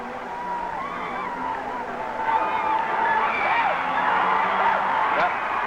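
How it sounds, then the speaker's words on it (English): Crowd at the 1965 Kentucky State Fair World's Championship Horse Show cheering and whooping, a broad steady roar of many voices that swells louder partway through and holds. "Listen to the crowd. They're loving it."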